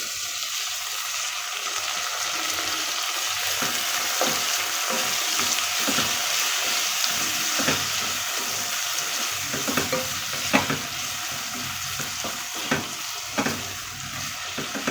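Tomatoes and green chillies fry in a pan for hyacinth bean upma, giving a steady loud sizzle with repeated stirring scrapes and clatters throughout, close up and with no talking.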